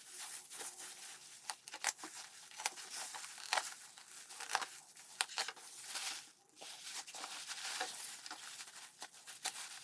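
Soft plastic crinkling and rustling with scattered small clicks and snaps, close and fairly quiet, continuing for several seconds, as a taped plastic support is cut free and removed from a potted Phalaenopsis orchid.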